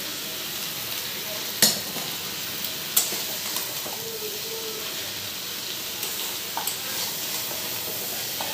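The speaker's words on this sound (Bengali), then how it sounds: "অল্প করে ভেজে নিই" Sliced ridge gourd frying in a pan, a constant close hissing sizzle with a couple of sharp clinks of a spatula and a few softer stirring knocks scattered through.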